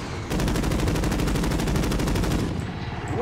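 Sustained automatic gunfire in the Warzone battle royale video game, a rapid, even stream of loud shots lasting a few seconds before cutting off, with faint distant noise after.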